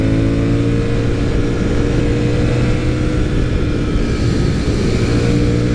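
A 2023 Honda CB750 Hornet motorcycle on a test ride, its engine droning loud and steady with a continuous low hum and rising harmonic tones as it accelerates, heard close with no speech.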